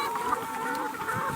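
Free-range chickens make a soft, contented trilling and clucking chorus, a brief, steady murmur of several birds nearby at moderate volume.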